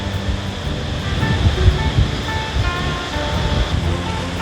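Sea waves wash onto a sandy, shell-strewn beach at Khanom in Nakhon Si Thammarat, southern Thailand, as a steady, close, broadband roar with gentle surges and some wind noise and no speech.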